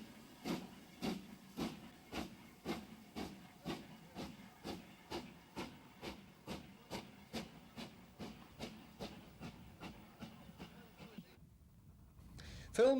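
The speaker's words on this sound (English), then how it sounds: "The train backs into a siding in order to pick up water supplies." A steam locomotive backing into a siding gives a steady series of about twenty evenly spaced chuffs at moderate distance, then goes quiet before a short hiss or whistle near the end.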